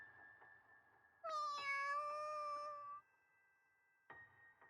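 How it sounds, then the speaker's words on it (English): A cat meows in the video game You and Me and Her: A Love Story. It gives a single clear, drawn-out meow with a rising and falling pitch, close and distinct over a soft tonal background. "Air meows into her ear."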